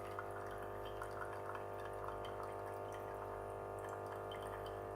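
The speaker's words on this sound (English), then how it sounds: "the first one is dispensing steaming hot water" A Tommee Tippee Perfect Prep machine dispenses steaming hot water, giving a steady, faint trickle with a soft mechanical hum and scattered small drips throughout.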